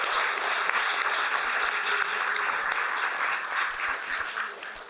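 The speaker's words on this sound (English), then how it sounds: "So join me in giving David a round of applause." A lecture audience gives sustained applause at a history talk, a broad even wash of many hands clapping at moderate distance, steady for about five seconds and fading slightly toward the end, with no talking over it.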